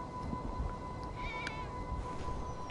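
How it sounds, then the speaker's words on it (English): A cat meows faintly a couple of times inside GTA Online, thin cries sitting over a steady game hum and a constant tone. "I hear a kitty."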